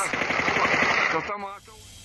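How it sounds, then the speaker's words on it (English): A rapid burst of automatic gunfire from local police rattles loudly for over a second, then cuts off, leaving a quieter, muffled background. "Then there's gunfire from the local police."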